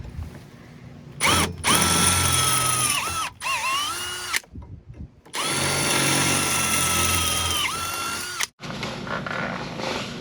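A power drill enlarges compressor mounting holes on a Hoshizaki IM-200BAA ice maker, whining loudly in several runs with brief stops and pitch dips as the bit bites into metal.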